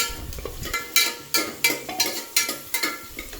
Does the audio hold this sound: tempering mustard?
yes